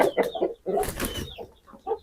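Grey rooster clucking nearby, a few short, loud, throaty clucks in a quick irregular burst, alone and close.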